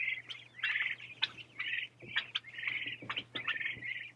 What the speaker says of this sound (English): All the sweet little chick noises.